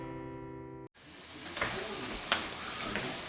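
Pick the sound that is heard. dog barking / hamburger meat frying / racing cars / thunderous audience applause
hamburger meat frying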